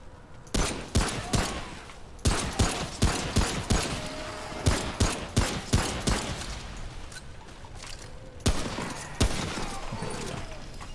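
Rapid gunfire in the Remnant from the Ashes video game, loud repeated shots in short bursts with brief pauses between them, with some quieter mechanical clicks.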